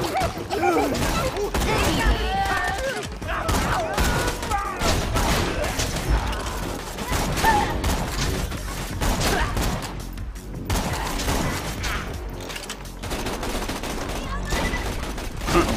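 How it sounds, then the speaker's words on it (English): Machine gun fire in Borderlands 2 runs dense and continuous through the stretch, bursts crowding together under steady game noise while players talk over it. "this fucking machine gun's useless"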